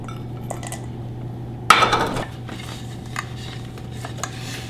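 A spoon stirs a thick energy bar mixture of 70% chocolate and dried or freeze-dried fruit in a bowl, making one loud clatter against the dish among softer scrapes, with no talking.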